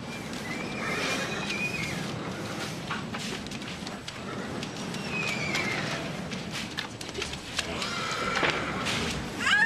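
Horses neigh and whinny repeatedly amid the chaos of a plane crash scene, with several shrill calls rising over a steady roar like fire and rain, and hooves clattering throughout.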